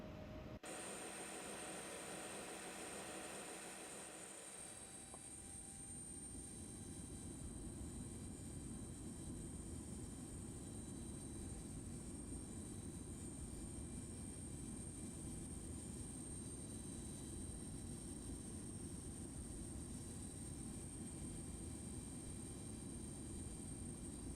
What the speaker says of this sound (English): We're letting the APU come up now.